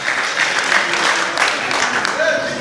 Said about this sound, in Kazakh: Шапалақ қаттыра